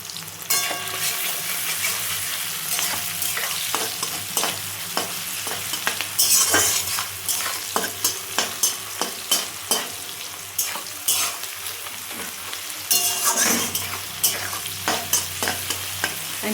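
Onions fry in a pan on the stove, a steady sizzle broken by repeated scraping stirs that come in irregular bursts, close and fairly loud throughout with no talking.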